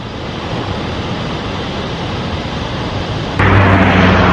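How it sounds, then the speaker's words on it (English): A waterfall crashes down beside a river in central Thailand, a steady, loud, broadband roar that swells louder and fuller for the last second. "the noise of the waterfall crashing down"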